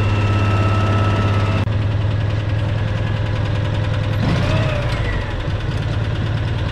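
An M274 A2 Mechanical Mule engine idles steadily with the throttle held slightly open, producing a loud, continuous low rumble with a faint knock that runs unbroken for the whole stretch.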